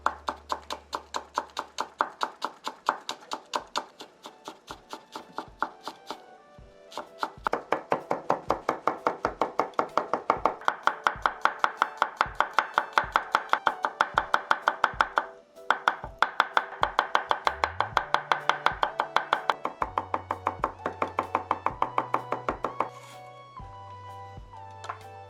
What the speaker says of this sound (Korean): 먼저 대파 마늘을 곱게 다져주세요.